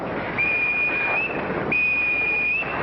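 A loud, shrill whistle on a ship's stokehold sounds in two long sustained blasts, each lasting about a second, with a brief gap between, heard near and clear over low rumbling background noise.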